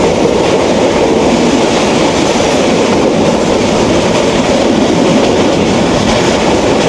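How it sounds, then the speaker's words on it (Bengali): The Jayantika Express passenger train rolls steadily from the inside, giving a loud continuous rumble with faint clickety-clack from the wheels and no voices. "জয়ন্তিকা এক্সপ্রেসে সিলেট ভ্রমণ করতে যাচ্ছি।"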